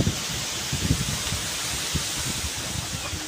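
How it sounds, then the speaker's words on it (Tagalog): Strong gusting wind blows behind a house beside a field, a steady broad roar with low buffeting thumps on the microphone, loud and continuous with no voices. "Kita nyo naman, lakas ng hangin, no?"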